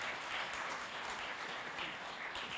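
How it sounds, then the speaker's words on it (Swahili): Audience applause at a Catholic church self-help group annual general meeting, a steady wash of many hands clapping that holds at an even level throughout, with no voices above it. "Yes, tumpigie makofi. Na hiyo makofi tupige mpaka afike."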